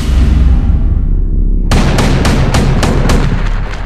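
A Mk 110 naval gun fires a quick series of about six loud, sharp shots in even rhythm after a fading rumble, each crack close and forceful.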